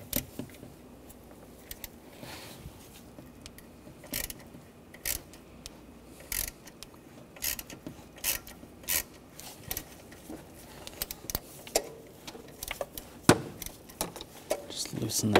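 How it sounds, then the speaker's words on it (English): Ratcheting clicks and metallic clanks as a 13 mm socket works an exhaust clamp bolt loose on a Chevy Cruze, in irregular close bursts over a low background with no talking. "I'm gonna use a 13 millimeter socket and take this bolt out"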